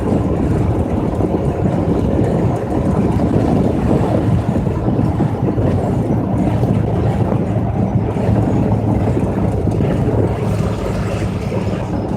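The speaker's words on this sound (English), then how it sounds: "especially with the way the wind is right now" Strong wind roars steadily against a moving vehicle on the road, a dense continuous low rumble and buffeting with no talk.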